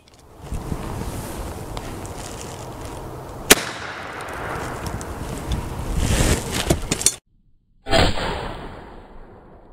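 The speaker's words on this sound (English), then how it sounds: "Now we're going to shoot this spaghetti squash at point blank range with a blank" A blank round is fired point blank at a spaghetti squash outdoors. One sharp, loud crack stands out over steady wind buffeting the microphone, and a brief dropout is followed by another rush of noise.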